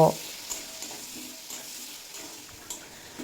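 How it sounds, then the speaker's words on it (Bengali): Potatoes fry in hot oil with salt and turmeric, a steady soft sizzle with faint stirring taps running alone at low level throughout. "তেল ভালো মতো গরম হয়ে গেছে ভেজে নেব আলু"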